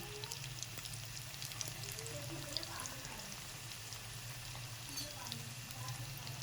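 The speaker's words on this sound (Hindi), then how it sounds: "और इसको तेज आंच पे ही फ्राई करेंगे" Chicken tandoori samosas fry in hot oil over high heat, giving a soft continuous bubbling sizzle, faint and even throughout.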